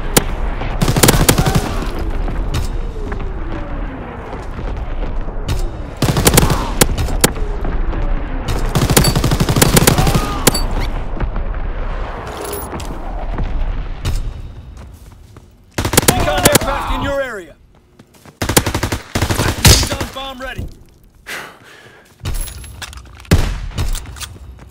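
Artillery and gunfire in Call of Duty, with dense bursts of automatic fire and heavy blasts through the first half, then sharper separated volleys after brief silences, loud and close.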